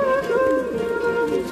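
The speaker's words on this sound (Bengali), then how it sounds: "দেখুন এখানে আরো রয়েছে নর কবুতর গিরিবাজ" A male Giribaz pigeon coos up close, a continuous low throaty warble lasting a moment, with no talking over it.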